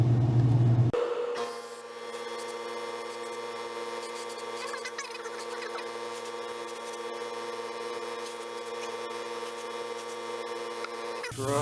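An airbrush hisses steadily while spraying paint onto an HO-scale model caboose, a continuous airy spray with a compressor-like hum beneath, starting after a brief pause and running unbroken to the end.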